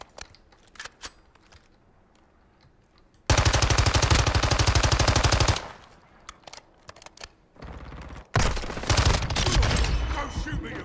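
Call of Duty: Modern Warfare 2 gunfire on the Strike map: long, loud bursts of rapid automatic fire, with sparser scattered single shots and clicks between them.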